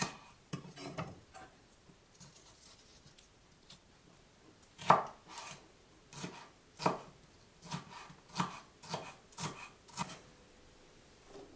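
Garlic cloves and mini peppers being chopped with a knife on a board, a run of sharp, close knocks in uneven bursts, some louder strikes, in a quiet kitchen.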